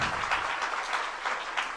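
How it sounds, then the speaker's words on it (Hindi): A Jain temple gathering breaks into dense, steady audience applause, a continuous wash of many hands clapping throughout the short stretch. "आपकी तालियां सबके लिए अभी बजनी चाहिए"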